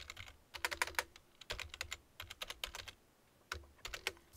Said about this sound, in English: I'm just going to go after that and type another script tag.